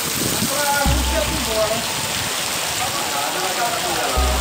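Torrential rain pours onto flooded streets in Bacabal, Brazil, on a carnival Monday morning, a steady, dense hiss that fills the scene from start to end.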